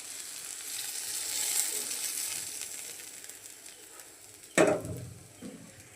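Okra frying in a pan gives a steady crackling sizzle, with a sharp clatter of stirring near the end as it is turned and lifted out.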